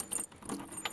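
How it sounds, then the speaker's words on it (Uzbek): A plastic door handle on a uPVC (Akfa) door is lifted and the lock engages, giving a short metallic clatter with a couple of quick clicks, close and fairly quiet, with no talking. "Ruchkani ko'taramiz. Bitta biramiz qulflandi."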